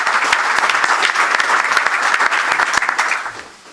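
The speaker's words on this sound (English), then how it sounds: "Let's give Bruce a hearty round of applause." Audience at a press conference on Old Dominion joining the Sun Belt Conference breaks into loud, dense clapping that holds steady, then tapers off near the end.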